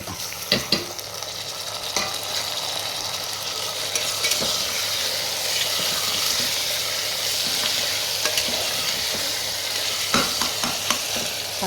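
Chopped tomatoes fry in a pan for tomato rice, a steady broadband sizzle broken by repeated scraping clicks of a spoon stirring, close and even throughout.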